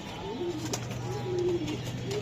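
Racing pigeons at a breeding loft coo softly in a few low, rolling phrases over steady background hum, moderately close.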